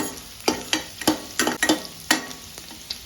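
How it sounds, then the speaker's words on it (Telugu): Onions frying to golden brown in a pan, a soft steady sizzle with regular scrapes and taps of a spatula stirring them, close and without talk. "ఆనియన్స్ అయితే గోల్డెన్ బ్రౌన్ వచ్చే వరకు ఫ్రై చేసుకోవాలండి"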